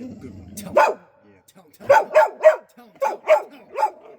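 A dog barks in short bursts, a single bark and then two quick runs of three yaps, while people speak briefly nearby.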